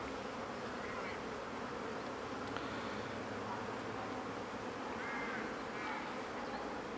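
Honeybees swarm thickly at the entrance of a small nucleus hive with a Lerouge queen, pollen streaming in, making a dense, steady buzzing hum that fills the whole clip close by.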